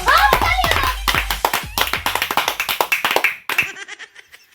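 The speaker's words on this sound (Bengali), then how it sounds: "সাহেবের জন্য একটু জোরে হাততালি হোক" Loud crowd applause at a local stage event honouring an MP, dense claps in a steady burst that trails off near the end.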